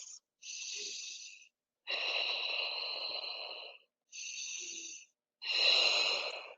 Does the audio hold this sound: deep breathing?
yes